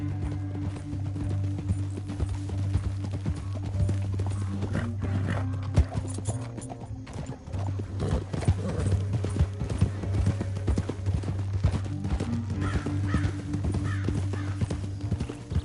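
Horse hooves clop in a rapid galloping rhythm in Red Dead Redemption 2 on PS4, over a steady low rumble of game music and ambience, with brief louder thuds.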